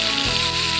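Prawns fry in hot oil with a steady, dense sizzle and crackle, close and fairly loud throughout the short moment, with no voices over it.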